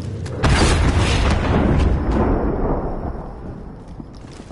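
Vito car blown up in a video game, a loud booming explosion that hits sharply and rolls on as a broad roar, slowly fading over several seconds.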